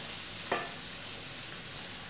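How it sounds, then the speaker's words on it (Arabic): A wooden spoon stirs eggplant stuffing in a hot pan, giving one quick scrape against a steady, close sizzle of frying ingredients. "نخلطوا دائما بالملعقه ديال العود"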